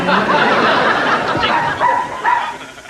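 A dog indoors barks and yips in quick bursts, moderately loud and close, with some background room noise.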